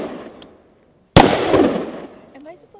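A single sharp gunshot from a rifle on a Marine Corps firing range, loud and close with a ringing decay, preceded by faint talk.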